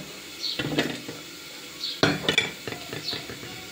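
Fried fish is dropped into a pot of simmering curry in a home kitchen, giving a few soft plops and scrapes along with a light sizzle and utensil clinks against the pot, all close by.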